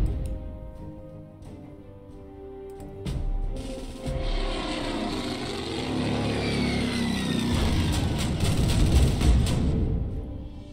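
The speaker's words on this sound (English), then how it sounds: "Okay, so the torpedo bombers have launched" Propeller engines of torpedo bombers in the Pacific naval battle game Order of War: Pacific drone steadily, growing louder and fuller as the planes close in and pass, alongside a faint whine.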